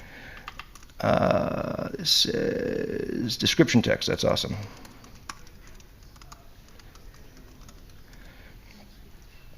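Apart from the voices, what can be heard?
typing on a computer keyboard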